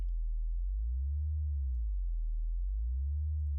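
A lo-fi lead synth patch in Reaktor Blocks gives a low, smooth sine-like tone that slowly wavers up and down in pitch, sustained and alone, with a soft pulsing throb.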